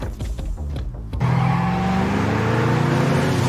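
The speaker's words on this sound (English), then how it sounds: "Casually, Katie walked out and fled in Luis's car." A car pulls away and drives off in a movie scene, its engine rising to a loud, steady drone after a brief rustling lead-in, with no talk.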